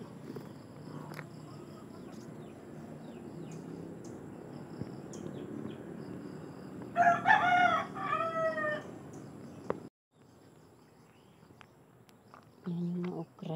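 A rooster crows nearby in a short burst over quiet background clucking from chickens, with a soft voice briefly present.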